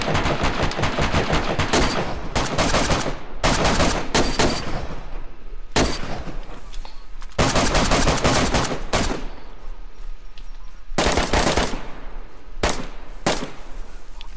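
Loud, close video-game gunfire in a battlefield skirmish near a ditch and woods: long automatic bursts and rapid shots with short silent gaps between volleys, continuing throughout without talk.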